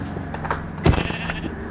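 Sheep bleating in the video game Minecraft, a couple of short bleats rising over a game soundscape with faint background tones and no talk.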